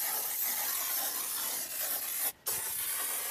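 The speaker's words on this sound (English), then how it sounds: "Let's spray it and let it set." Continuous hissing spray from an aerosol can of foam tyre cleaner, held close to a car wheel, briefly stopping for a moment before resuming.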